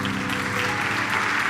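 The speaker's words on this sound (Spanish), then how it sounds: "Dale un aplauso al Señor." Congregation applauding during a church service with a pastor, a short steady wash of clapping, moderately loud, with a faint sustained tone beneath.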